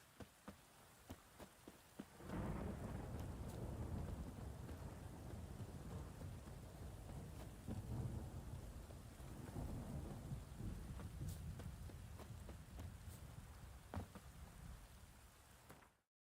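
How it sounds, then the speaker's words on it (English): In The Witcher 3, a light patter gives way to a sudden heavy downpour that roars steadily, with occasional distant thunder rumbling beneath the rain, at low overall volume. "Let it rain."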